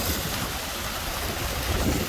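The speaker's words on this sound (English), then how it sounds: "this is the creek, my creek." A creek beside a lodge in Springville in the Kern River Valley rushes steadily, a continuous broadband wash of flowing water with no pauses, fairly close and with no talk over it.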